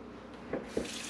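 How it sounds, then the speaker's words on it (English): Tap water from a well poured into a roaster pan for bone broth, a soft steady running hiss with a couple of brief splashy surges, fairly quiet and close. "I'm just adding my tap water."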